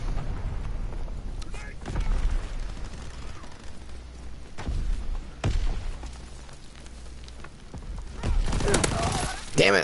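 Gunfire and explosive bursts from Call of Duty multiplayer, Kill Confirmed mode, sound as repeated sharp cracks and heavy booms over a rumbling game background, with a player's voice talking throughout.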